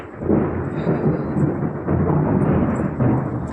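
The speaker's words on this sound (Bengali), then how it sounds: "আমাদের এখানেও হয়েছে, প্রচণ্ডভাবে ঝড় বৃষ্টি হয়েছে। তো এই যে ওয়েদারের অবস্থা দেখো। আর মানে ও মা গো, বিদ্যুৎ চমকালো।" A strong thunderstorm brings a continuous, loud low rumble of thunder mixed with heavy rain noise, close and steady across the whole stretch.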